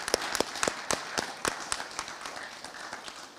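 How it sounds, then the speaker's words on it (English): Applause from an audience at a spring military commissioning ceremony, a scattered crowd of hands clapping with distinct sharp claps that thin out gradually, moderately distant and with no talking. "Give yourselves applause for helping these young folks get to where they are today."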